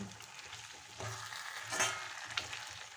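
Chicken pieces stir-fried in a pan for an easy home-style chicken fry, giving a steady close sizzle with a few louder scraping stirs, no voices.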